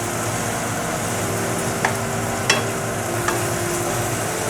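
Tomatoes being stirred in a hot pan of oil for a Bengali tengra fish curry, a steady low sizzle with a few sharp utensil scrapes against the pan.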